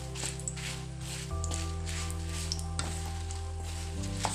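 One kilo of anjal (kingfish) fish fries in oil with curry leaves, making a soft, continuous sizzle close by over a steady droning hum, with a few faint clicks and no talking.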